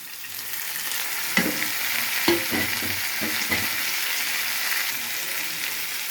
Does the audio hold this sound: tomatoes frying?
yes